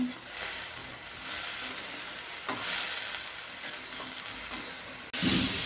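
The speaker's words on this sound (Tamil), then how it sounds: "இதை இப்போ நல்லா வதக்கிக்கிறோம்." Steady sizzling of vegetables sautéing in oil in a pan, a constant crackling hiss with a few brief clatters of stirring.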